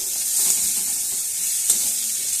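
Tomatoes and onions fry in a pan with a steady broadband sizzle and hiss, plus a couple of soft stirring scrapes, close and moderately loud, with no voices.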